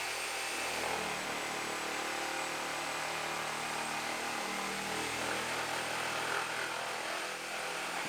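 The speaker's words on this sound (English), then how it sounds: "Just trim our top plate at the edge of that joist." A saw with a dull blade trims a wooden top plate at the edge of a joist during demolition work, giving a loud, steady whining cut that runs unbroken throughout.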